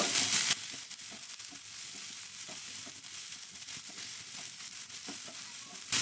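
Sliced onion and thin strips of capsicum fry lightly in a pan, a soft continuous sizzle with faint stirring clicks throughout, moderately quiet and close.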